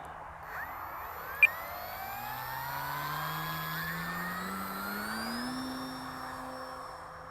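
An FMS PA-18 Super Cub 1300mm STOL RC airplane on its maiden flight, its electric motor humming steadily and rising slightly in pitch as it climbs, moderately quiet with one brief sharp click early on.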